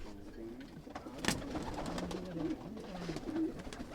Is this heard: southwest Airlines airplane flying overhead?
no